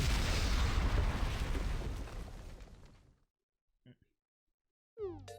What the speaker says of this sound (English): Oh, here comes the missiles.